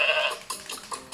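A goat in Goat Simulator bleats loudly once in a high, wavering cry, followed by brief soft clicks and thuds.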